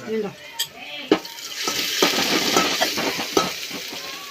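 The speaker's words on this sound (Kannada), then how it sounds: "ಎಣ್ಣೆ ಉಳ್ಳಗಡ್ಡಿ ಕಡಿ ಪತ್ತ ಬೆಳ್ಳುಳ್ಳಿ ಎಲ್ಲ ಕೊಟ್ಟು ಹಾಕಿದ್ವ" Chopped onion and garlic frying in oil in a pan, with a steady sizzle and a few sharp stirring clatters close by, under intermittent talk.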